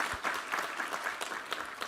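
Applause from a church congregation during a worship service, a dense steady patter of many hands clapping at moderate volume throughout, without voices.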